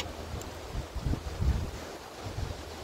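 Wind gusting at a beach, a low rumbling buffet with swells peaking around the middle, steady and fairly close with no talk.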